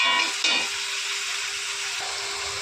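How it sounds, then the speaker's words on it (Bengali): Chicken frying in mustard oil with spices gives a loud, dense sizzle, with a brief stir or clatter of the pan near the start before the hiss settles into a steady crackle. "দেখো, চিকেনটা দিয়ে তেল ছাড়া শুরু হয়ে গেছে"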